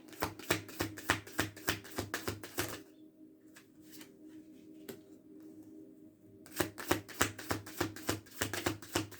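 Tarot cards shuffled close up in quick, rhythmic riffling bursts, pausing for a few seconds of quiet handling before the brisk shuffling resumes.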